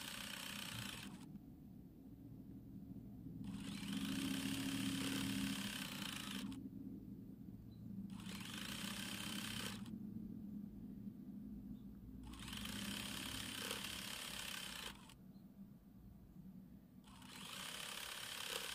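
A sewing machine joins quilt rows for a quarter-square table runner, its fast whirring bursts starting and stopping in several separate runs with quiet pauses in between, fairly soft and close.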